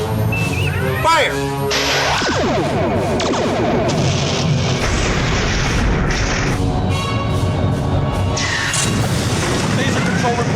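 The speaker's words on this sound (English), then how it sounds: "Ready torpedoes. Aye, sir. On my command." Starship torpedoes launching and exploding in a Star Trek-style sci-fi audio drama: loud layered booms and whooshing tonal blasts over a continuous rumbling roar, one big burst early followed by sustained barrage.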